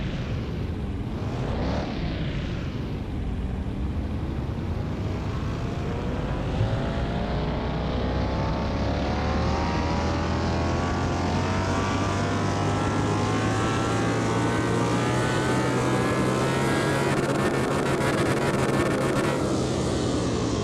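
A car engine in Car Mechanic Simulator 2021 revs hard on a dyno, a loud, sustained roar that climbs steadily in pitch with rich harmonics and no talking over it.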